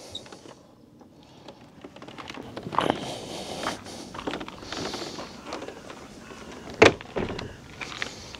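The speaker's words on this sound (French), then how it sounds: "ouvrir les volets." Window shutters being opened in a room, heard as a series of scraping, rattling mechanical movements with a sharp knock or clatter near the end, fairly close and with no talking.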